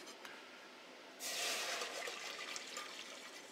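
Milk pours into a pan of cooked butter and flour for a cheesy mac and cheese sauce. After about a second of near silence, a steady, close splashing pour starts abruptly and runs on to the end.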